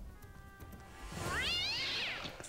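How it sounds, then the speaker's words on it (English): A cat gives a single drawn-out, rising and falling meow, fairly close but quiet, over a faint background hum with no talking. "There's a cat."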